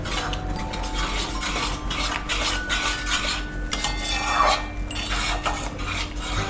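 A spoon scrapes and clinks against a pot while salt and Kashmiri chili powder are stirred into sweet-sour lemon pickle, steady rasping strokes close up with no talk.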